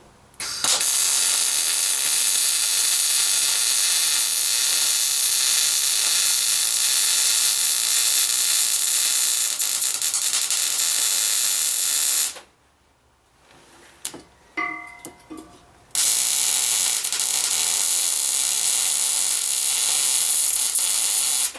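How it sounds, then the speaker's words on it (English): Welding on a homemade metal pig tank gives a loud continuous crackling hiss that runs for about twelve seconds, breaks off for a few seconds of quieter clicks and clanks, then resumes just as steady. "Should probably throw a couple of welds in there maybe, just to make it look better."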